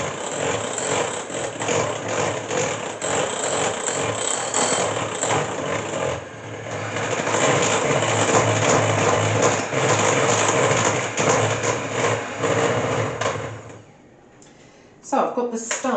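An electric hand mixer whirs steadily while beating brownie batter of egg, butter and chocolate, a dense continuous buzz that cuts out near the end, with talk over it.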